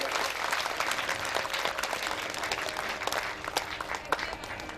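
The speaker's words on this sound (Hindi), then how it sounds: "जोरदार तालियों से स्वागत करें।" Sustained audience applause at a Hindu religious gathering marking Krishna Janmashtami, where a chief minister is welcomed; dense, steady clapping from a crowd fills the whole stretch without speech.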